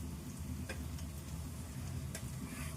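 Marinated chicken cooks in a pan for chicken curry with a constant low sizzle and frying rumble. A couple of faint stirring clicks break through, quiet and close.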